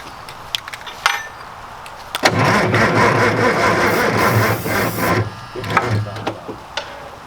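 Starter cranking a 1960s Mack diesel truck engine: a loud, steady churning whir runs for about three seconds without catching, then cuts out, with scattered knocks and clanks before and after.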